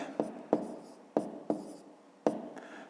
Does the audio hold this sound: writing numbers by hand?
yes